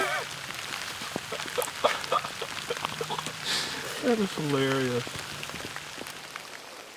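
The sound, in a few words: rain falling outdoors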